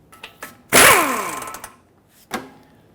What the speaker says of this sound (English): Now let's use a 21mm and remove this nut.